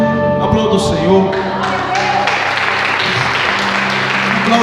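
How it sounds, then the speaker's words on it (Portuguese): A church congregation applauds during a worship service, a dense wash of clapping mixed with voices and sustained music, loud and continuous throughout. "Aplauda o Senhor."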